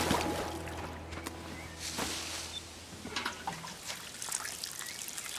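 Water trickling and splashing as crops are watered in the farming game Len's Island, with light dripping and clicking game sounds over a steady low hum and no talk.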